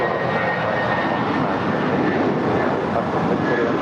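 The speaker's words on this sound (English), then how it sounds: "641 in the Star Alliance livery, going to Guatemala City. It's a 9-year-old A319." A nine-year-old Avianca Airbus A319 in Star Alliance livery at LAX, bound for Guatemala City, gives a loud, steady jet engine roar that holds throughout with no talk.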